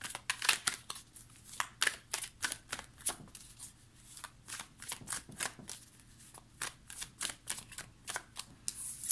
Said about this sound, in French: Je vais prendre le tarot des sorcières. Donc, on va tirer 3 cartes pour votre autre et 3 cartes pour vous.